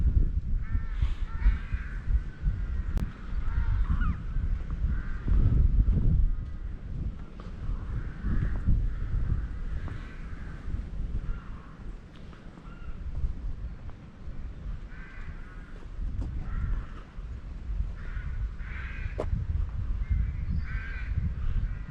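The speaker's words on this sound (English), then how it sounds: "You can hear those rooks." Rooks caw repeatedly in the distance by the upper River Coln in the Cotswolds, harsh calls in scattered bursts over a steady outdoor rumble of wind and water.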